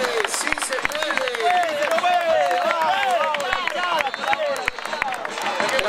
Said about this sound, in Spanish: Surgen nuevamente los aplausos, aplausos, aplausos